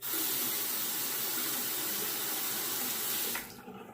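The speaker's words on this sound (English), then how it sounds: "I'll wet my razor now." A bathroom tap runs at full flow to wet a razor before shaving, a loud close steady gush of water that cuts off abruptly near the end, with no voices.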